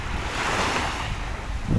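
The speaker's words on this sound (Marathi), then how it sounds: "इथे सगळं लाटा बघा इथपर्यंत येत आहे" Sea waves wash up a beach in Maharashtra in a steady, rushing surge, with wind buffeting the microphone and a low thump near the end.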